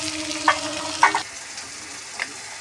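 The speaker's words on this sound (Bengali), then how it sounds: "ভালো করে আমি এটাকে ভেজে নেব আলুর সাথে" Tomato pieces with ginger garlic paste and potatoes frying in a pan, a steady sizzle broken by a few sharp clinks and scrapes of stirring.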